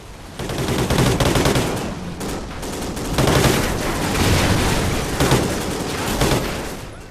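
Rapid bursts of video game gunfire from Call of Duty: Ghosts crackle continuously, with dense automatic shooting rising and falling in intensity, loud and close with no talking.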